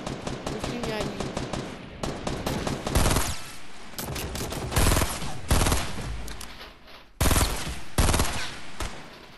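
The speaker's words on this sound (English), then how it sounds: "They're shooting at me." Rapid bursts of automatic gunfire in Fortnite, loud and close, firing in repeated volleys with short pauses between them and a couple of heavier single blasts.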